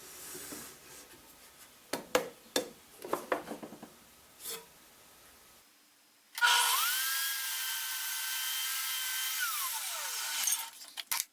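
A power saw rips a 1.5-inch strip from 3/4-inch-thick wood, a loud, steady, sustained cutting whine lasting several seconds after a stretch of quieter handling knocks, then spinning down at the end.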